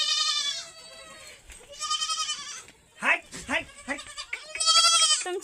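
Young goat kids in a village yard bleat repeatedly in loud, wavering cries, several overlapping calls arriving in quick succession, with brief voices mixed in among them.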